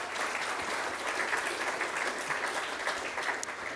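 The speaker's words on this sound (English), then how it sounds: "And round of applause." Steady, dense audience applause at a public talk on increasing cycling and walking, a continuous wash of many hands clapping at an even level throughout, with no talk over it.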